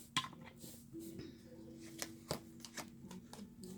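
Tarot cards are handled close by during a pick-a-card reading, with soft sliding and snapping card sounds, small taps and rustles in an irregular run over a quiet background hum.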